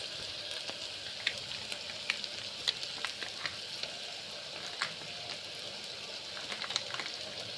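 Ginger garlic paste frying with softened onions in a pan, giving a steady close sizzle with scattered crackles and pops, no voices.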